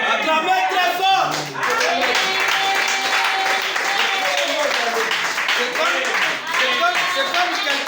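A church congregation claps loudly during a service, dense continuous clapping running nearly the whole time, mixed with voices and sung or shouted tones over it.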